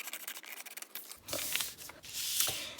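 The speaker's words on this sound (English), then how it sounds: "So next thing we're gonna do is just cut this part off." Scissors cut through the paper cover of a Dollar Tree gift-bag journal up close, a series of quiet rasping snips and paper rustles that grows louder after a short opening pause, with no talk.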